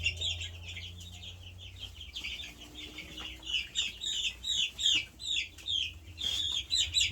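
Young Brahma chicks chirp in quick, high peeping bursts, close and fairly quiet, with a low hum in the background.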